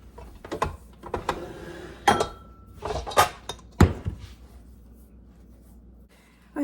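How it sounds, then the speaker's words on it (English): A spoon mixes chopped pecans into stiff butter cookie dough for Russian tea cakes. It makes irregular scraping clicks and knocks against the bowl, with a few louder clacks and short pauses between strokes. "I have a cup of chopped pecans I'm going to put in here. And just mix that in with a spoon."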